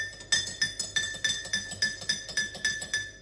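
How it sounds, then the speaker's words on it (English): Metal spoon stirring coffee with milk in a glass, clinking against the sides in a quick steady rhythm of about a dozen bright, ringing taps, close and alone. "Give it a stir."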